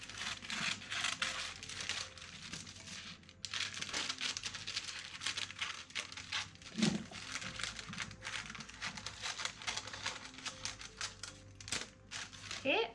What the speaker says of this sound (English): I'm going to take the scissors and be very careful. We're going to cut out the square we just made.